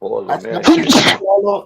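One loud, close human sneeze bursts out in the middle of casual talk among a group of men, with speech just before and after it.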